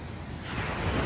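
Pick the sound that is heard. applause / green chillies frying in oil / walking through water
walking through water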